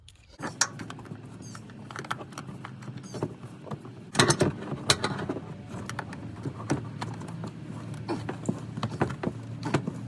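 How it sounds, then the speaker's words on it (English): Metal tool clicks and scrapes while loosening the fuel filter underneath a Dodge Ram 2500 with a 5.9L Cummins, working in a cramped spot above the control arm; close, irregular knocks and creaks over a low steady hum. "we'll go ahead and loosen it with the tool, and then by hand we'll drop it down out of there"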